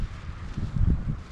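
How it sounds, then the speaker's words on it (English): Wind gusting across an open campsite in St. Paul, Alberta, a soft low rumble and rustle that swells briefly and then fades over about a second, with no voices. "It's kind of windy today here in St. Paul."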